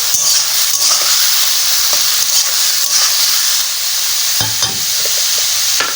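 Four chilies, green and ripe red together, drop into a hot pan for bottle gourd with prawns and fry with a loud, close sizzle while being stirred, with scraping strokes and crackles throughout.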